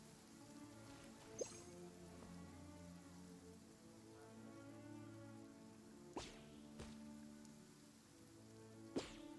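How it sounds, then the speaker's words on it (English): Rain falling in a courtyard, a steady hiss of drops on surfaces with a few sharper drips and taps standing out now and then, no voices. "I love listening to the rain from the courtyard."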